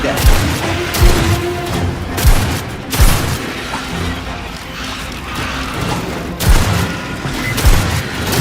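Grenade blast in the sci-fi shooter game Aliens: Fireteam Elite, a loud booming burst set among rapid bursts of gunfire and repeated heavy thuds, with a second strong explosion-like hit later on.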